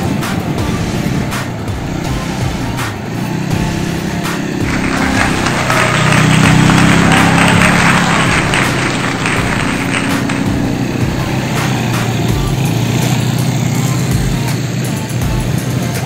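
An ATV engine runs steadily while riding on a beach, a continuous rough motor drone that rises and falls slightly in pitch, with wind-like noise and no clear speech.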